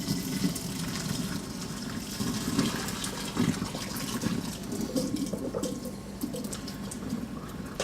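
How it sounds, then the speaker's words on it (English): Cooked fettuccine poured off into a sink, its hot water gushing and splashing steadily for several seconds, close and fairly loud with no voices. "It's not too mushy, so drain our pasta off."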